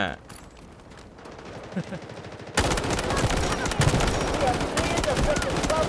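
Pistol gunfire in the Delta Force shooter comes as rapid strings of sharp shots, quieter at first. It then jumps to a louder, denser volley with other shots layered over a noisy battle backdrop.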